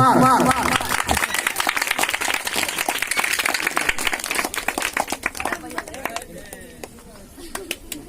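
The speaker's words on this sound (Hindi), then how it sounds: "आपकी जोरदार तालियों के साथ मैं मंच पर आमंत्रित करता हूँ" Audience applause at a Hindi stage programme, brisk clapping from a crowd that starts loud right after a man's announcement over a speaker and gradually thins into scattered claps, with birds cooing faintly nearby.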